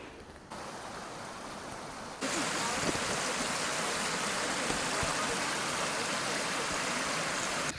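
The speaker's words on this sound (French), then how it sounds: "Une petite rivière." A small mountain stream flowing near Lake Oeschinen in Switzerland, a steady rushing hiss of water that grows suddenly louder and closer partway through and then stays constant.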